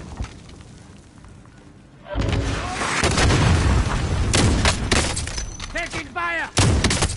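Gunfire in a PS5 shooter game: after a quieter stretch, loud sharp shots and booms burst in repeatedly, mixed with impact sounds and voiced game callouts and talk.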